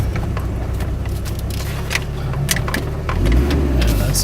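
Inside a Mitsubishi Lancer Evo 5 CP9A on the move, a steady low engine and road rumble fills the cabin, with light rattles and clicks scattered on top and a slight swell in engine noise near the end.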